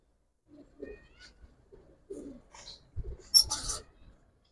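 Pigeons, including ash-eyed young males, cooing in short soft bursts close by, with a few sharper fluttery calls near the end and quiet gaps between.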